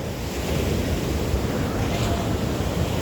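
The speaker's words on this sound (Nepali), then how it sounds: "र तपाईँहरू छालको आवाज सुन्नुहुन्छ कस्तो दामी छ" Waves crash and wash up on a coastal beach in the evening, a loud, continuous churning roar of surf with wind noise over it and no clear speech.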